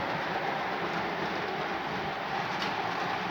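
A continuous rushing rumble of a Williams turbine model train locomotive running along its track, steady and fairly close, with no pauses.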